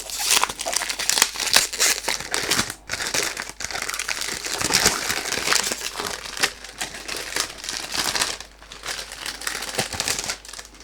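Packaging around a perfume bottle crinkles and rustles up close, with dense crackling and occasional crunching bursts as thick cardboard and wrapping are handled continuously.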